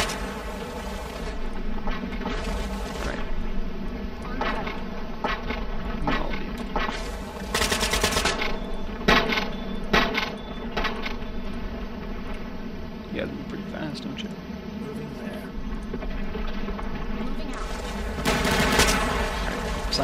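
Gunfire in the video game Cepheus Protocol: bursts of automatic fire come and go over about twenty seconds beneath steady game ambience, with people talking throughout.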